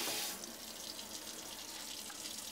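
A Samsung Galaxy S5 mini phone held under a running tap: steady close splashing and hiss of faucet water, with a louder burst at the start, then an even, continuous flow.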